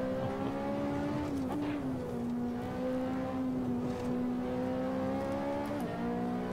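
A Ferrari 458 Italia engine in the Assetto Corsa racing game holds a steady high drone with a few short throttle blips and pitch dips. It stays loud and continuous throughout, with no talking.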